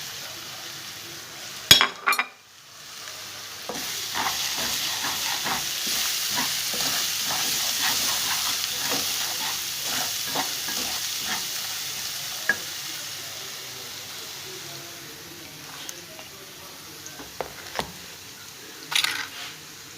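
Ground chilli, crushed cumin and turmeric hit hot oil in a pan for a restaurant-style mixed vegetable dish, giving a steady soft sizzle with spoon scrapes and clinks against the pan, heard close up.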